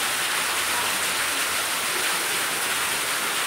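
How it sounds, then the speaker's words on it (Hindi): Heavy rain pours steadily in Salaya, a dense, even hiss of water close by with no pauses and no voices. "पीछे देख सकते हो बहुत बारिश है पलायर में"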